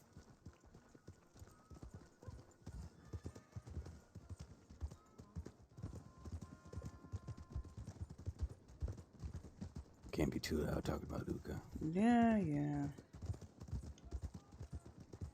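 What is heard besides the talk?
horse hooves clip-clop while riding, from a video game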